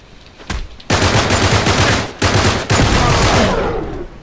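Automatic gunfire in Uncharted 3 comes in loud, close bursts: a short shot, then a long sustained volley, a brief gap and two more rapid bursts, with no talk over it.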